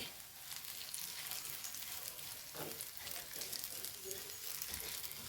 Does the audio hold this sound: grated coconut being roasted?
yes